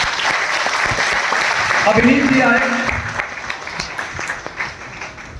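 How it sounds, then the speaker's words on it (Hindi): An audience at a motivational seminar applauds loudly and steadily, easing off toward the end, while someone speaks over the clapping. "मैं एक बार जोरदार तालियां चाहूंगा इनके लिए।"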